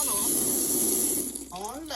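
Cold water runs steadily from a kitchen tap to rinse raw pork chops, a continuous close hiss that carries throughout, with a voice speaking briefly over it near the end.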